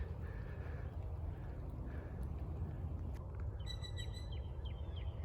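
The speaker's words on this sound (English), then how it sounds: "Hear that blue jay up there?" A blue jay calls outdoors in the distance, a short run of harsh repeated notes near the end over steady rain-like background noise and a few faint chirps.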